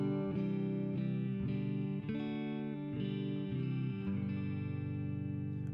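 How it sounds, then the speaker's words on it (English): Clean electric guitar tone played through an amp with a little reverb, sustained chords ringing in a steady strummed pattern, close and fairly loud, with no talking. "this is my clean sound with a little bit of reverb coming off of the amp"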